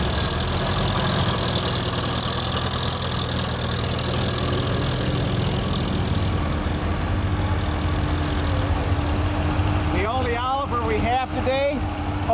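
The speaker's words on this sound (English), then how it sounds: "Behind Kent is a 1942 Farmall H" A 1942 Farmall H antique tractor engine runs steadily at an outdoor antique tractor and plow event, a constant loud mechanical drone with a low steady hum, joined near the end by a sharper rising and falling engine tone.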